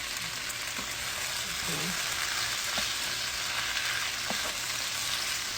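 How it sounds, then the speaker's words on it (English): Sausages going back into an oiled frying pan while cooking sausage and rice, giving a steady, close sizzle and crackle throughout with a few soft stirring clicks. "now we're going to go ahead and add our sausages back in"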